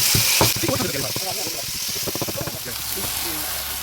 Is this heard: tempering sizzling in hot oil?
yes